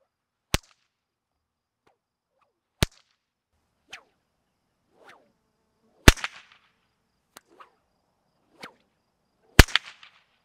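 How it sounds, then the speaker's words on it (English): An 11-foot bullwhip cracks sharply about six times at irregular intervals, each snap loud and close with a brief echoing tail, separated by near silence and faint whooshes. "this 11-foot bullwhip is going to crack a lot louder than this little micro snake whip"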